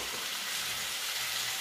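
Minced meat sizzling and frying steadily in a pan for a kitchen-made eggplant dish, a continuous close crackle with no talk.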